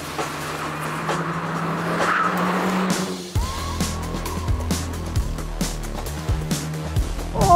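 A front-wheel-drive Honda Civic Type R drifts with tires squealing, engine revving loudly and then dropping into sustained screeching skids with repeated throttle blips on a closed track.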